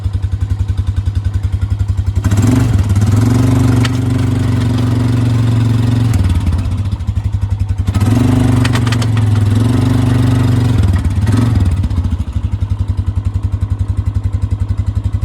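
A homemade trail mower's small engine running during a test, a loud steady idle chug that twice surges into a higher, sustained rev for a few seconds before dropping back.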